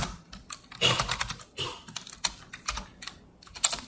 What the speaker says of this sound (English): I'm really having trouble with this keyboard.